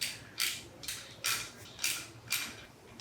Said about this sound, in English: we're going to take our little tiny 3/8 ratchet again, and we're just kind of going to tighten everything up